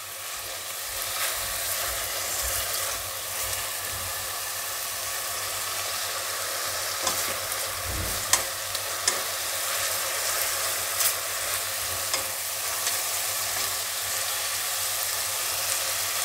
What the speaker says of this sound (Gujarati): આદું લસણ ને એને થોડીક વાર જ આપણે તેલમાં ફેરવવાનું